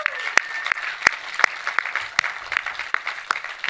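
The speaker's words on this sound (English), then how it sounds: "Round of applause." Audience at an MFA Interaction Design thesis festival clapping, with sharp, distinct individual claps in an irregular rhythm, fairly close and moderately loud.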